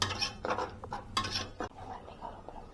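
Ginger garlic paste is stirred in a pan for vegetable biryani. A spoon scrapes and clinks quietly against the metal in short, irregular strokes, with no voices.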